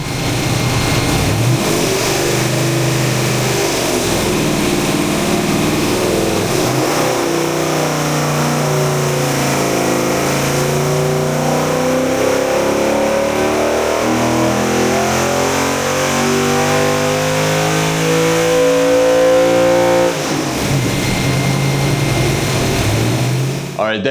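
A Boostline Performance Street-Series 5.7-liter LS V8 makes pulls on a dyno, loud and close, climbing from a rough idle through a long rising rev sweep and dropping back to idle near the end.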